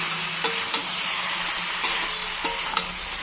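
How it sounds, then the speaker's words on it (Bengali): Crab and bottle gourd with spices stir-fried in a pan, a steady close sizzle punctuated by several sharp spatula knocks at irregular intervals, with no speech. "এটা আমি 5 থেকে 7 মিনিটের মতো কষিয়ে নিচ্ছি"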